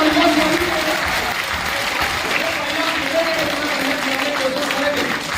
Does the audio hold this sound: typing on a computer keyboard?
no